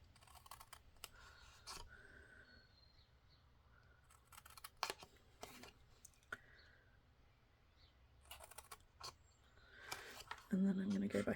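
Scissors snip through patterned paper squares for a folded book box, giving a series of quiet, close cuts at an uneven pace over a low background hum, with a louder rustle near the end.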